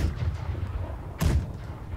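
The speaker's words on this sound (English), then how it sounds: "Whatever cannons are still there, large ship, fire away." Cannons fire on a large ship in a sailing schooner game, a single loud booming blast about midway through, set against a continuous low rumble of wind and sea.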